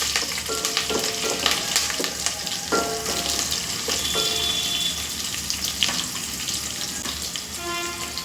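Curry leaves crackle and fry in hot oil in a pan, making a loud, continuous sizzle with scattered pops and spoon stirring. The cooking is for a chicken fry piece biryani, and no one speaks.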